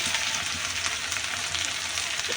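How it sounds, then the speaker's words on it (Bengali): Jute leaves fry with onion and garlic in a pan over a low flame, giving a steady, dense sizzle that runs unbroken at an even level throughout. "হালকা জালে শাকটা ভাজি করবে"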